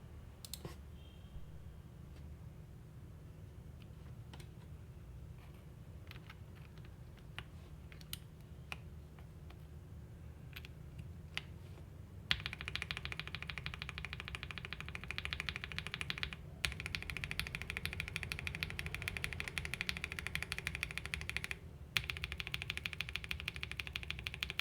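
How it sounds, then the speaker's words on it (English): Typing on a mechanical keyboard fitted with Finalkey V65 stock keycaps, tested over KTT Kang White, Gateron Milky Yellow and Boba U4T switches: a steady stream of close clicks and clacks that turns noticeably brighter and louder about halfway through. "just to show you the sound test of these keycap sets on different switches"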